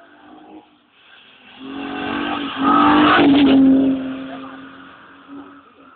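A rally car, a former Mitsubishi, roars past close by, its engine swelling to a loud peak around the middle and fading away, with a brief distant gear change afterward.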